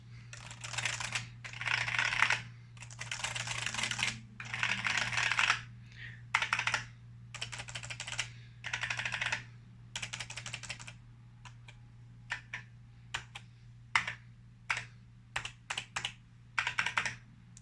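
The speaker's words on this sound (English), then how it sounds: "The lever action is very classically mechanical, whereas the Peerless, it just sounds like Peerless" Typing on a Fujitsu Peerless FKB4700 and an Epson Q303A lever-action mechanical keyboard: dense bursts of rapid keystrokes at first, then sparser, sharper individual clicks and clacks, close and fairly quiet against a low steady hum.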